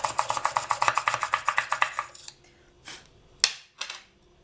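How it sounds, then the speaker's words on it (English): Rapid rhythmic grinding bursts of a small hand drill cutting into polymer clay earring resin for two seconds, followed by a few sharp clicks and scrapes. "it will drill straight through that resin"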